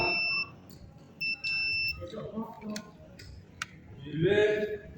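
Multimeter continuity tester on a Honda CB150R fuse check, giving a steady high beep, then two shorter beeps as the probes connect, with someone talking between and over the tones.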